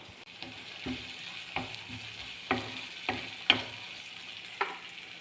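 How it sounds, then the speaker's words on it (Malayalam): Onion, ginger and garlic are sautéed in a pan with a low background sizzle and about half a dozen distinct spatula scrapes at irregular intervals; no one speaks. "അതിൻ്റെ കൂടെ തന്നെ ഇഞ്ചിയും വെളുത്തുള്ളിയും നമുക്ക് ചേർത്ത് വഴറ്റിയെടുക്കാം"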